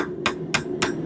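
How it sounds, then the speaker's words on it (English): Three evenly spaced, sharp hammer blows on hot steel at an anvil while curling a forged corkscrew, each strike ringing briefly over a low steady forge hum. "with glancing blows from the edge of the anvil, and then we are hammering a little bit towards ourselves to kind of curl that into a round form"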